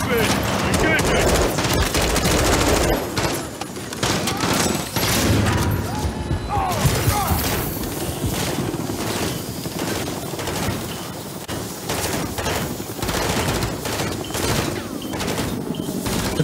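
Heavy, sustained gunfire and explosions fill a Call of Duty MW3 battle as soldiers shoot at an enemy helicopter, the loud dense barrage running nonstop with booms and thuds mixed in.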